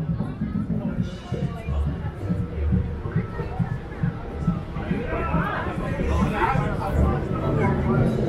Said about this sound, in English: huge crowd there on the